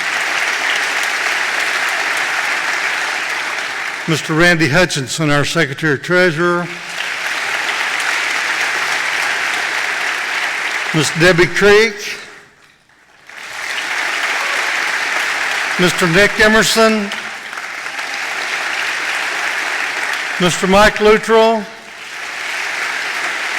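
A school board faculty meeting audience claps in sustained waves of applause, while a speaker introduces members over a microphone between the bursts.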